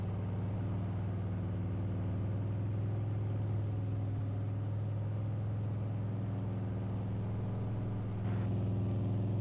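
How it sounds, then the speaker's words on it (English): A truck engine in the Farming Simulator game drones at a steady, even pitch, a constant low hum that holds at the same level from start to finish with no talk. "The truck is loud."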